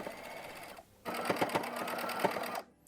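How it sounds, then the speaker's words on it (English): A sewing machine stitches along the pleats of a cloth mask, running in a steady close-up whir with a brief pause before it starts again and stops near the end. "go ahead and sew along the pleats"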